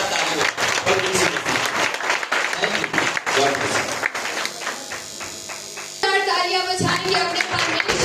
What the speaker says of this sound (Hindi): परमेश्वर के एक जोरदार ताली हो।